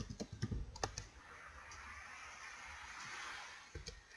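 Brief run of computer keyboard keystrokes, soft clicks clustered at the start and end with a steady hiss between, faint and close.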